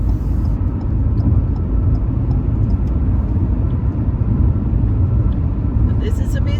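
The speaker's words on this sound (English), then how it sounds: "But this is a busy highway, boy. These trucks." Trucks roll along busy Highway 59 between Lufkin and Nacogdoches, Texas, a heavy continuous low roar of traffic heard close up, with a faint clatter near the end.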